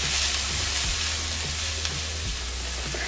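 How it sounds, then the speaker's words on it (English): Pimento, onions, celery, scallion and shredded carrots sauteing in oil with salt, a steady bright sizzle throughout with a few soft stirring scrapes, no voices. "I'm going to season with salt and allow this to saute for about 2 minutes"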